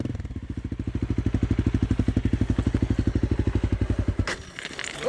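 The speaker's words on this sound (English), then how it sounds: "that 250 at wide open throttle is by far the loudest" A Honda CRF250L dirt bike engine is held at wide open throttle nearby, a loud, rapid, rasping pulse for about four seconds. It then drops away into clattering and scraping noise.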